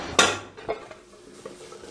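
Food is flipped onto a plate in a kitchen, giving a sharp clatter of dishware followed by a couple of softer knocks and scrapes at close range.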